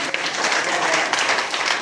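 A church congregation applauds together in a dense, steady wash of clapping that stays loud and even throughout, with no break in the crowd noise.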